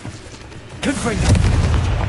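Confringo fire spell exploding in Hogwarts Legacy: quiet game ambience, then a sudden loud boom that rolls into a sustained fiery rumble.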